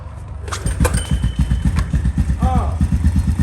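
A Toyota Chaser JZX100 with a 1JZ engine cranks and catches within a second, then settles into a loud, close, pulsing idle, with a brief voice-like chirp partway through.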